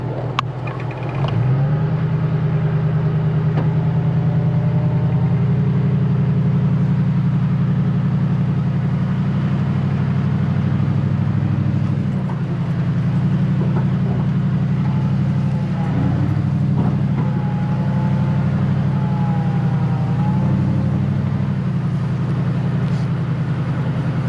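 A 2012 Ford F150 pickup with the Coyote 5.0 V8, in 4x4, climbs a hill, its engine holding a steady, loud low drone throughout, with no talk.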